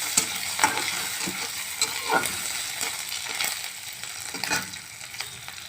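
Onion and two green chillies fry in a pan while being stirred, giving a steady oily sizzle broken by repeated scraping and clanking strokes of the spoon against the pan, close and fairly loud.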